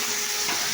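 Cumin seeds hit hot oil in a pan, giving a brief, bright, continuous sizzling hiss up close.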